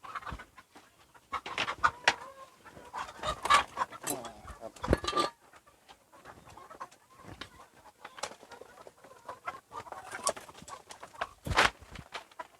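Chickens on a mixed Thai farm during morning feeding, scattered clucks and short calls close by in irregular bursts, with someone talking over them.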